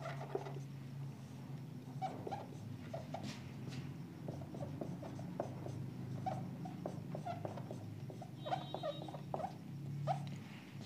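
A derivative is written out during a Class 12 maths lesson on maxima and minima. Short, scratchy pen ticks and strokes come in an uneven rhythm over a low steady hum, close but quiet.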